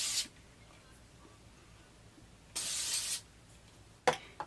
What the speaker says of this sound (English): Take a little spray and spray right around my face just to get it off.